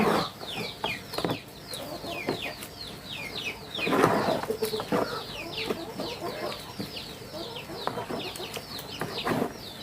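Chickens cluck and squawk continuously while waiting to be fed at a home farm, with busy overlapping calls near and far, a louder burst of activity midway and occasional wing flutters.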